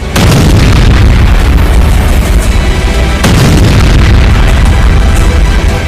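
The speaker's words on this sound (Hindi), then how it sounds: "ओडेसा में पुतिन के क्लस्टर वॉरहेड के सीरियल धमाके शुरू हो चुके हैं" Cluster warhead missile explosions in Odessa sound as a dense, continuous rumbling roar of booms and bursts, loud and sustained throughout, with a sharp fresh blast around the middle.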